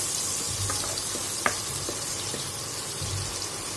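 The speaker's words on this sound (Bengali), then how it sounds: "তো সর্ষের তেল যখন গরম হয়ে আসবে তখন আমি দিয়ে দেব কাঁচা পেঁয়াজটা।" Raw onion frying in hot mustard oil, a soft, continuous sizzle close by, with an occasional small pop and faint low bubbling.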